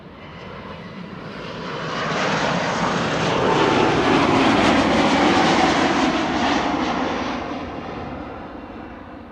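An aircraft moves at Amsterdam Schiphol Airport, its engine roar building from a moderate level to a loud, broad peak near the middle and then fading, alone without voices.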